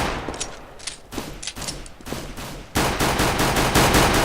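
Rapid gunfire in CS:GO, a run of sharp pistol shots in quick rhythm followed by a dense burst of automatic fire, loud and close with no talking.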